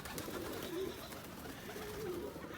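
Pigeons cooing softly, two low throaty coos a little apart, over faint outdoor background noise.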